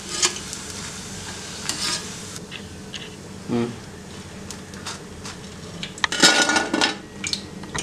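Laddu dough crackles as it fries in hot oil, with clinks of a utensil against a pan, a brief busy flurry of sizzle near the end.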